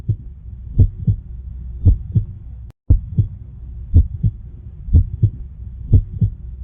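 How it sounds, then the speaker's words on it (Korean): A steady human heartbeat thumps along in paired lub-dub beats, about one pair per second, close and low, with a brief dropout near the middle and no voices. "하트비트, 그 심박."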